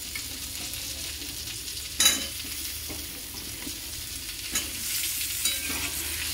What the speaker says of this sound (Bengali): এরপরে আলুগুলো দিয়ে দিলাম